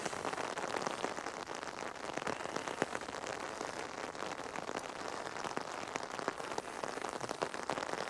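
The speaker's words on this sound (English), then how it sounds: "Look at the water running down my driveway." Steady rain patters on a hard surface with water running down a driveway, trickling and splashing beneath it, a dense continuous hiss with no voices.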